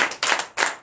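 A church congregation claps in acclamation, with three quick loud bursts of many hands in a short, punchy rhythm.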